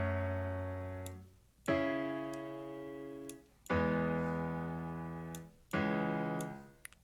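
Four sustained synth or piano chords of a new progression, programmed in music production software, each struck cleanly and left to ring and fade before the next, with no talking.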